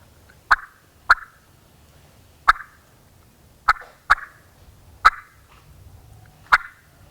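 A turkey mouth call sounds seven basic clucks, single sharp clicks spaced irregularly about a second apart, close and loud against near silence, imitating a wild turkey hen.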